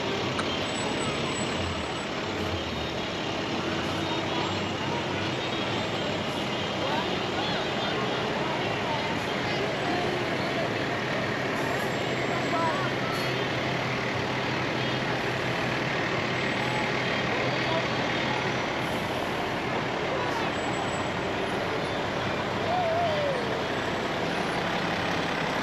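Fire department trucks from Sharon roll past in an outdoor Christmas parade, a steady heavy engine rumble with a faint reversing-style beep, continuous and moderately loud under a broad crowd wash, with voices mixed in.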